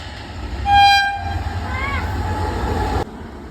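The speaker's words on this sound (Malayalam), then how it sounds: "ഇപ്പൊ പോയ ട്രെയിനിനെ കുറിച്ച് നിങ്ങൾക്ക് എന്താ അഭിപ്രായം" A train sounds a loud horn blast early on while its steady rumble continues, then a shorter rising horn note, before the sound cuts off abruptly.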